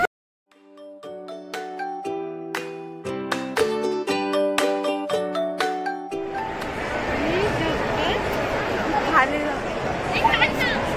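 Crowd hubbub in a busy shopping mall: a bright chiming melody rings out first, then dense, close chatter and babble of many voices fills the space and continues steadily.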